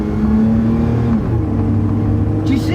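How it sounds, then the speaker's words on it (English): High-mileage pickup truck with about 236,000 miles revving while pulling away, a loud close engine drone whose pitch rises, dips at a smooth gear shift, then holds steady. "That engine still hums."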